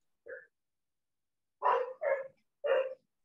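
A dog barks four times, one short yip followed after a pause by three quick, loud barks in a row, close by in an otherwise quiet room during an online class.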